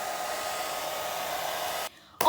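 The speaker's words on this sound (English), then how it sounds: "I'm going in with the dryer again." A hair dryer blows steadily at close range while a frontal wig is being laid, a constant loud whooshing hum that cuts off abruptly, pauses briefly, then starts again.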